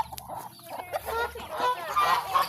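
Chickens cluck repeatedly at close range in a garden or farmyard where eggs are being collected, with scattered bird calls and a busy, uneven rhythm.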